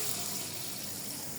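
About half a litre of water is poured into a pot for jalebi sugar syrup, giving a steady, hissing stream of liquid that stays fairly quiet and even throughout, with no voices.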